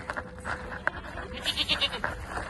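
Goats bleat at feeding time on a farm, several short nasal cries overlapping in quick irregular bursts, close and fairly loud over faint outdoor background.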